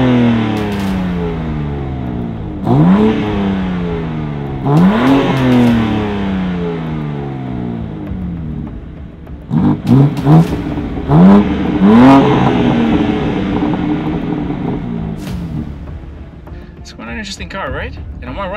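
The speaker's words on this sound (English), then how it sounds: "this time I'm driving the BMW M4 Competition rear-wheel drive" BMW M4 Competition with rear-wheel drive accelerating hard in a drag race, repeated rising engine sweeps through the gears, loud and close, with brief shift breaks and a second burst of pulls later on.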